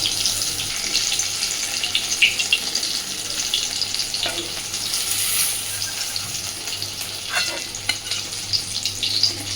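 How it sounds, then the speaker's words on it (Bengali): Pieces of pointed gourd fry in hot oil with a dense, continuous close sizzle, punctuated by a few scraping clicks as they are lifted out and drained. "হালকাভাবে তেল থেকে ছেঁকে সবকটা পটল তুলে নেব"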